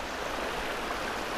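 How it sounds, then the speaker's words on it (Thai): Steady, dense rush of falling water from a seven-tier waterfall, a continuous close roar filling the whole short moment with no voices. "มองขึ้นไปสิคะน้ำตก7ชั้นเลยน้ำตก7ชั้นค่ะ"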